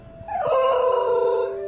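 A Basenji, a barkless hunting dog, gives a curious yodel-like howl, a rising, warbling tonal cry that holds steady for over a second, loud and close with no other sounds.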